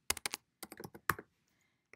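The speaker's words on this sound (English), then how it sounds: "And then now I can go back and type in," Quick bursts of typing on a computer keyboard, several clustered keystroke runs separated by brief pauses and ending in one faint tap, close and fairly quiet with no talking.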